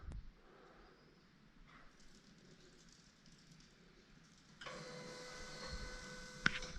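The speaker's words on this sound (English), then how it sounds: "You'll hear the fuel pump kick here in a second once it's done writing the tune." A MKIV Supra fuel pump primes after an AEM Infinity ECU tune write. A quiet room suddenly gives way to a steady electric whine and hum that starts abruptly and holds, with a brief click near the end.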